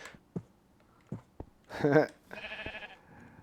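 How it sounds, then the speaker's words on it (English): A sheep bleats in the Minecraft game, a short wavering call in the middle of the clip that follows a few soft thuds and clicks. A brief buzzy tone comes after it. "we've got our Dinnerbone sheep"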